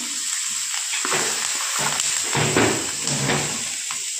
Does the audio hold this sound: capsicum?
yes